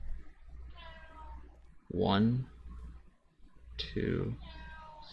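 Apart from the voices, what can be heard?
cat meowing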